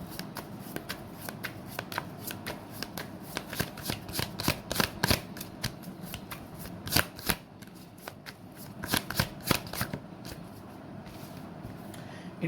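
Tarot cards are shuffled steadily for several seconds, a long run of crisp riffling flicks and soft slaps heard close up, with no talking.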